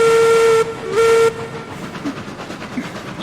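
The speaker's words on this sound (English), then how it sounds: "I always use the whistle signals whenever I'm alone" A steam locomotive whistle in a train video game blows two loud sustained blasts with a short gap, followed by the rumble and chuffing of the engine running on.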